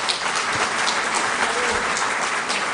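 A hotel conference audience at a pulmonary hypertension forum gives a loud, sustained round of applause for medical specialists, the clapping dense and continuous throughout.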